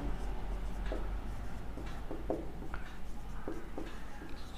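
During a Class 10 math lesson on quadratic equations, someone writes on a board, making a series of short, irregular scratchy strokes close by over a low steady hum.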